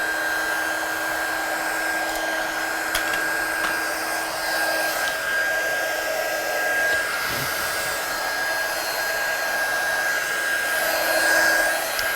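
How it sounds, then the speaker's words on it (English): A heat gun blows over a stamped card in a crafting setting, with a steady, close whirring rush of hot air and a high whine that runs unbroken throughout. "I'm going to get my heat gun good and hot so it doesn't warp the card so much"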